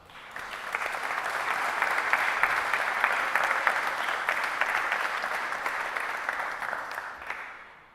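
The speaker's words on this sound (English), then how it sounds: "Give yourself a round of applause for that." Graduates at a college graduation ceremony applaud themselves, a full, even swell of clapping from a large crowd that rises quickly, sustains for several seconds and then tapers off.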